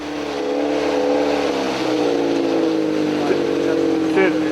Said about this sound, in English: the unmistakable sound of an illegal muffler